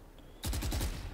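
A quick burst of about five rapid gunshots in Valorant fires after a moment of near quiet, each crack sharp with a low thump, close and moderately loud.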